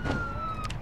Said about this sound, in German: Ich mache jetzt die Sirene.